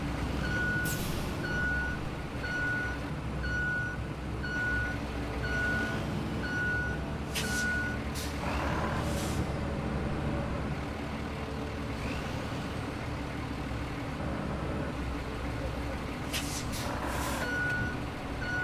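Dump truck reversing in the video game RoadCraft, its steady diesel rumble under a regular, evenly spaced reversing beep that stops midway and briefly returns near the end, with a few hissing air-brake bursts.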